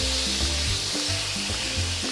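Chicken piccata sauce in a pan gives off a loud, continuous, close-up hiss and sizzle with no pause.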